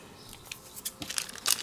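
Scissors snip through paper for a handmade card in a few quick, faint, close cuts with light rustling between them.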